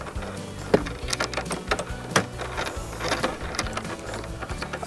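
A bolt with a washer is tightened onto a bicycle handlebar. Close, irregular mechanical clicks and sharp taps sound over a low rattling background, with no talk.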